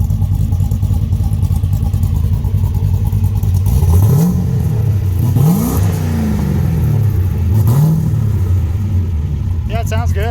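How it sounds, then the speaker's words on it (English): An LS-swapped Nissan 240SX with a T56 gearbox on its first test drive, its engine droning steadily from inside the car with several rising rev pulls as it shifts through gears, loud and continuous throughout. "we're going for the first test drive. The LS240 with the T56."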